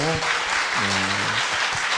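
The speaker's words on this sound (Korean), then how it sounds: "우리 하나님께 감사 박수 드리겠습니다." An audience at a church seminar claps in steady, dense applause throughout, while a voice speaks over it.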